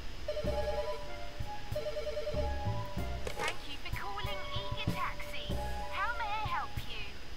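Ringing payphone in a horror video game, repeated electronic telephone rings in short bursts with tonal chirps, heard under people talking.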